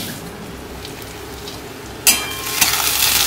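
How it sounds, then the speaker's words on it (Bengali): Onions frying in a pan, a steady close sizzle that swells suddenly partway through into a louder, hissing crackle and stays loud to the end. "ওদিকে আমার পেঁয়াজটাও ভাজা হচ্ছে।"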